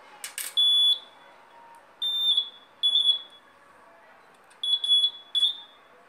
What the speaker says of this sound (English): take this coil near this metal piece and it rings